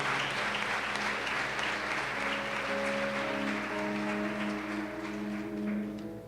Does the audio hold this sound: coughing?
no